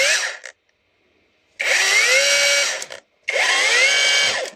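Cordless Parkside Performance X20V Team power tool whirring in two sustained bursts after a short one, with a wavering, uneven motor pitch and gaps of silence between runs.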